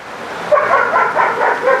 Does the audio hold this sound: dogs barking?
yes